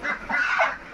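Ducks honking close by, a few overlapping nasal calls in quick succession, with no talking.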